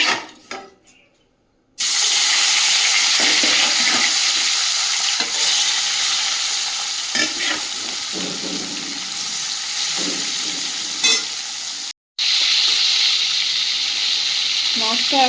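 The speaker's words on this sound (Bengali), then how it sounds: "কড়াই দিয়ে দিয়েছি তেল মাছগুলো দিয়ে দেবো" Fish frying in hot oil in a wok makes a loud, steady sizzle with stirring scrapes, starting after a quiet opening and briefly cutting out near the end.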